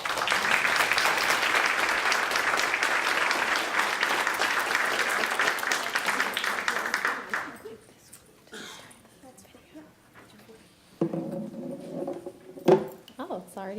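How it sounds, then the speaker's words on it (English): Sustained audience applause at a conference fills the room for about seven seconds, then fades out. Quiet shuffling, a few clinks and brief talk follow. "please give a long applause"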